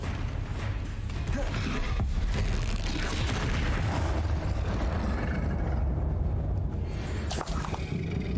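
A Confringo explosive spell from Hogwarts Legacy blasts amid dense, continuous combat noise, with booming, roaring rumble sustained throughout and no clear pauses.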